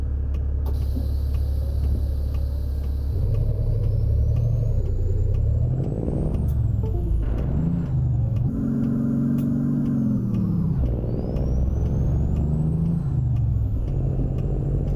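A big rig driving down the road in American Truck Simulator, with a steady, loud low engine drone and rising and falling revs as it shifts through gears, plus brief hiss and mechanical clicks along the way.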